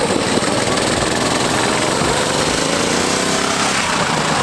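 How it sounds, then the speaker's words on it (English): A mini ATV's small engine runs loudly and steadily throughout, with a rough, rattling idle and no break in the drone. "How is this engine still running?"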